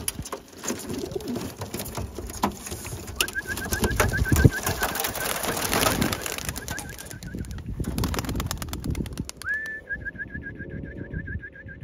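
Pigeons let out of a crate on a training toss, with soft cooing and whistling wing and bird sounds over steady outdoor rustle, plus a thin sustained whistle-like tone later on.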